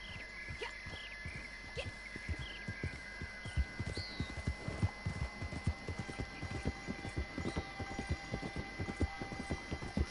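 Horse hooves clip-clop in Red Dead Redemption Online, a steady stream of close, soft thuds in an uneven trotting rhythm over a faint background hum, with occasional high chirps of game wildlife.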